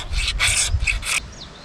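Four quick rasping scrapes of a magnesium rod being scraped into powder, close and fairly loud, followed by a brief quiet pause.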